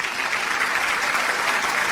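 A brief burst of steady audience applause, fairly loud and even, greets a guest on a radio music program.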